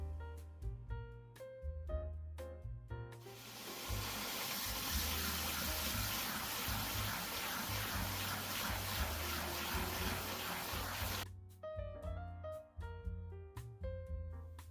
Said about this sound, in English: I start by filling my sink basin with warm water and add dish soap to allow for a nice sudsy water to appear